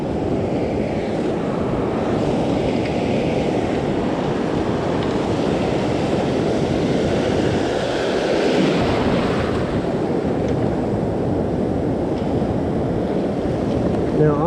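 Ocean surf breaks along the Surf Coast, a continuous rolling wash of waves with buffeting wind noise on the microphone, steady and fairly loud with no voices.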